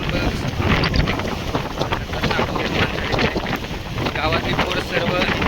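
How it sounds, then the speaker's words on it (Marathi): Rough, stormy sea whipped by strong wind near a coastal Konkan village during a sudden storm, with a continuous loud roar of wind and crashing water and heavy wind buffeting on the microphone throughout. "समुद्र एकदम अचानक खवळलेला आहे"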